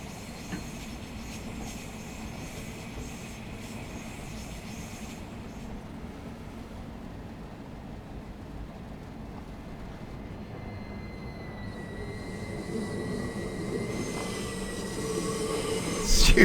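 Brakes on a Southeastern high-speed train in Train Sim World 5 grind under a steady rolling rumble, with thin squealing tones rising near the end and growing louder in the final seconds.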